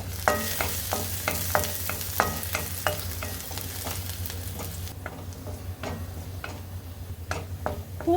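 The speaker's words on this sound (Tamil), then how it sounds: "எண்ணெய் சூடானதுக்கப்புறம் இதில் 10லேருந்து 15 பல்லு பூண்டை ரோஸ்ட் பண்ணி எடுத்துக்கலாங்க" Ten to fifteen garlic cloves roast in hot oil in a kadai, a soft steady sizzle punctuated by regular sharp ladle taps and stirring clicks, faint and close with a low hum underneath.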